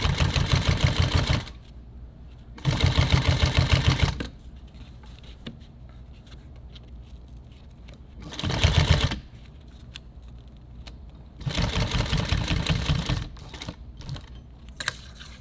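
A sewing machine stitches a wrapped nylon tactical EDC belt in loud rapid bursts of buzzing needle strokes, three or four runs of a second or more each, separated by quiet pauses with faint handling noise.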